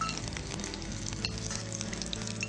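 Steady crackling sizzle of food being reheated in hot oil, close and continuous with no voices.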